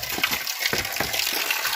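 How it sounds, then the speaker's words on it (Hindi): Water from a waterfall on Susunia hill rushes and splashes steadily, a broad continuous gush close by with no talk over it. "और यहाँ पर झरना है"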